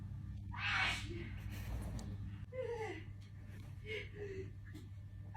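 A young woman's sneeze indoors, one sharp burst near the start, followed by voices talking.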